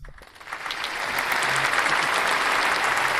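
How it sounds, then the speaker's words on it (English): Crowd applause sound effect: a dense wash of clapping and cheering that swells over the first second and then holds steady and loud to the end, with no talking. "Crowd goes wild."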